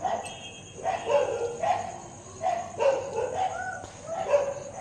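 A dog barks in short repeated bursts, about five or six over a few seconds, fairly close and loud, during Diwali night with pixel lights; there is no clear talk over it.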